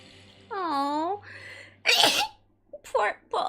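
A single loud sneeze bursts out during a let's-play session of the game Odin Sphere, with sustained game tones and a short voiced sound before it and brief talk following.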